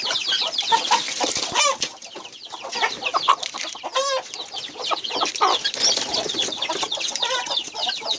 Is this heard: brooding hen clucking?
yes